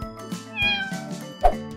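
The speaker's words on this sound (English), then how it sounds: "Cat." A cat meows in a children's animal alphabet cartoon, giving two or three short, clear, close mews in quick succession.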